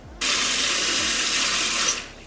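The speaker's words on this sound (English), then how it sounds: "I'm just running some cold water into the bowl so that it is a little bit easier to squeeze" Cold water runs steadily from a tap into a microwave-safe bowl, a close, even rushing stream that starts abruptly and tapers off near the end.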